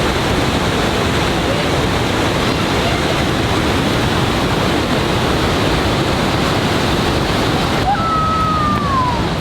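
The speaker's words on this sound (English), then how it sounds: "There's a waterfall?" A waterfall in the Rogue Gorge on Oregon's Rogue River sends up a broad, continuous roar of rushing water, loud and steady with no break, heard alone.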